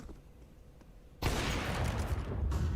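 Counter-Strike pistol gunfire at a pro match between G2 and Vitality, a dense burst of rapid shots starting about a second in and continuing loud and sustained to the end.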